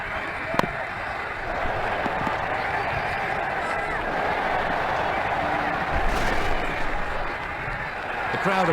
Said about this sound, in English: The crowd applaud a great knock.